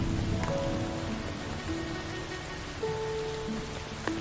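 Steady rain falls in an outdoor period-drama setting, a dense continuous patter under faint tonal background music, with no voices during the stretch.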